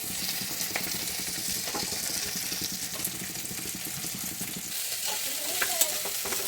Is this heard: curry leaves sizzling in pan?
yes